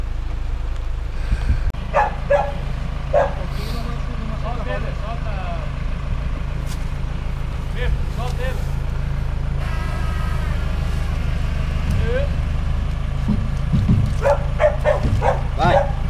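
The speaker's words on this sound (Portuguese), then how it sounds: "Não me morda, cachorro." Dog barking near an Audi 80 being loaded onto a tow truck, several short sharp barks scattered across the clip under steady engine rumble, with people talking nearby.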